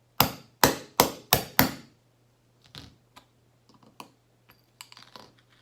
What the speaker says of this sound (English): grab your striking tool right in the middle of that cap again, and you're going to keep whacking it pretty hard until you feel it give way